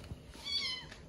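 A single thin, high meow rises and falls briefly, close by, with soft background noise around it.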